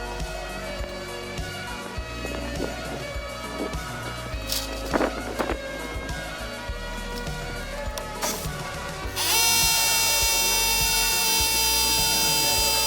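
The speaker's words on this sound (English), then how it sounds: "So let's drill again." A power drill with a concrete bit whines steadily drilling into a wall, with a louder, higher-pitched burst of drilling near the end; brief clanks and a faint voice sit underneath.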